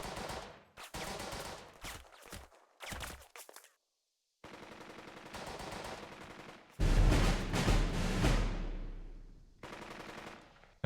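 Gunfire in the tactical war game Burden of Command: rattling machine-gun bursts and rifle shots in broken volleys, with short pauses, then a louder, denser fusillade with heavy low thuds near the end.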